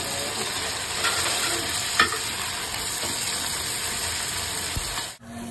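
Tomatoes sizzling with onions in an oily pan during biryani masala prep, a steady dense hiss with a few faint spoon knocks, close and constant throughout before a brief cut at the end.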